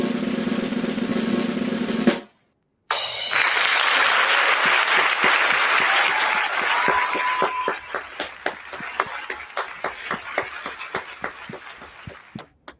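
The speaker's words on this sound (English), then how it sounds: "I'm just clapping my hands" After a brief different sound and a moment of silence, hands break into loud, dense clapping that gradually thins into separate, distinct claps toward the end.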